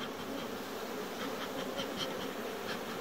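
A honeybee colony buzzing inside its hive at season's end, a steady dense drone of many bees, close and continuous with faint individual wingbeats flickering through.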